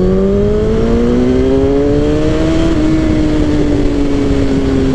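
A 2007 Suzuki GSX-R 1000 liter sport motorcycle pulls hard in second gear, engine note rising steadily and loud throughout, with continuous wind rush under the close, sustained revving.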